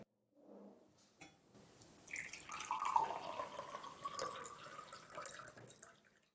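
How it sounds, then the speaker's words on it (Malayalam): Water poured into a small DIY tank fitted with an overflow alarm, a steady close trickle and splash lasting several seconds after a few faint knocks, with no talk. "ഇനി നമുക്ക് നമ്മുടെ ടാങ്കിലേക്ക് വെള്ളം ഒഴിക്കാം."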